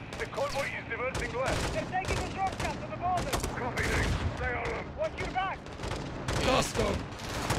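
Sustained LMG and rifle fire in Call of Duty Modern Warfare 2 crackles in dense overlapping bursts throughout, with shouted voices mixed in over the chaotic firefight.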